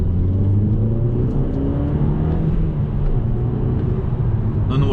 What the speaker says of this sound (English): these tires are a bit noisy right now